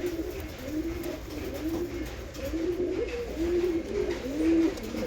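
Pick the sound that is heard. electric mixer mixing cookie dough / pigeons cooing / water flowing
pigeons cooing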